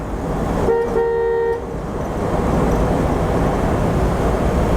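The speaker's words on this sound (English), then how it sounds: "And we do got a pretty loud horn." A single short car horn blast from a 1979 Dodge B100 van sounds, roughly a second long, over a steady rumble of an idling engine and road noise.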